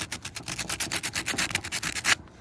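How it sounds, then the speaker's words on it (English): The metal top of a Porsche windshield wiper motor being sanded by hand, quick back-and-forth rasping strokes in a fast even rhythm, close and loud, stopping abruptly near the end. "this is just metal, so you can sand this"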